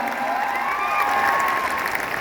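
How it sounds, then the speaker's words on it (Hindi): Audience applause at a recognition show, steady dense clapping from a large crowd throughout, with a sustained musical tone or voice running above it. "उसके लिए एक बार फिर से अनु मैम के लिए जोरदार तालियां हो जाए ऑल टुगेदर एवरीवन"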